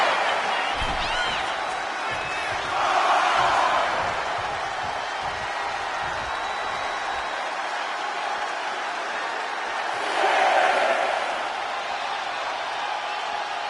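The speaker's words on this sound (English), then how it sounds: "Randy Orton feeding off this electric crowd." An arena crowd in the WWE 2K25 wrestling game roars continuously, swelling into two louder surges of cheering a few seconds apart.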